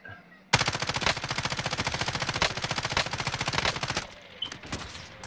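Rapid automatic gunfire in a shooter video game, a loud, evenly spaced burst lasting about three and a half seconds. A few scattered shots follow and then fade.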